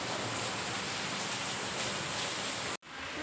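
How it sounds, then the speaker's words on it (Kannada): Rain falls in a steady, even patter under sunshine, close and constant, with a brief dropout near the end before it resumes. "ಅದ್ರ ಮಧ್ಯದಲ್ಲೇ ನೋಡಿ ಎಂಥ ಮಳೆ ಬರ್ತಾ ಇದೆ"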